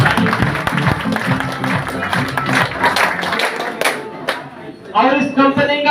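An audience claps and cheers for a leader being introduced at a DXN business motivational gathering. Scattered, lively clapping is mixed with crowd noise for several seconds, and then a voice speaks near the end.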